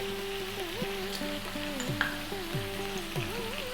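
Ground ginger and fennel seed powder sizzle gently and steadily in a pan, a soft continuous frying hiss with faint music playing underneath.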